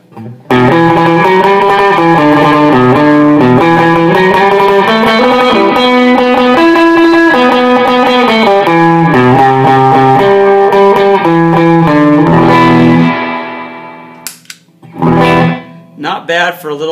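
A loud electric guitar phrase through a small solid-state amp's Topanga reverb, spacious, chords sustaining and decaying, then a few sparse notes near the end.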